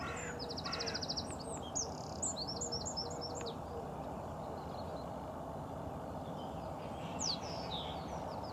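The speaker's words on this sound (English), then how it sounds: "There are just so many birds here" Several birds call and chirp outdoors, with harsh caws and short twittering bursts over a constant ambient hum, some near and some farther off.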